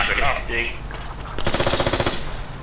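Chinese rifle in the game Squad fires rapid bursts of shots, a dense run of sharp cracks roughly halfway through after quieter background sounds.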